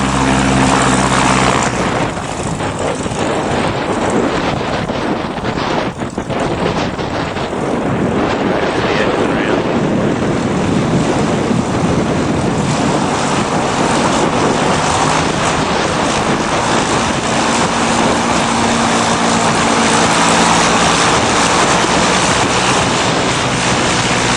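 Aircraft propellers powering up into reverse thrust, a loud, steady roar with broad rushing noise that holds throughout, shifting slightly in pitch as power builds.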